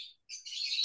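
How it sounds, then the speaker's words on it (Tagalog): A pet bird indoors gives two quick high chirps in succession, clear and fairly close, with no talking over them. "sorry po, maingay yung aking ibon."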